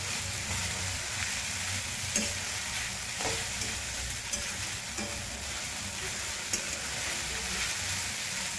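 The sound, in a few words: khichdi being roasted and stirred in a pan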